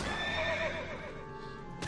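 A horse in a video game neighs in a loud, close whinny, with clip-clopping hooves running underneath the whole time.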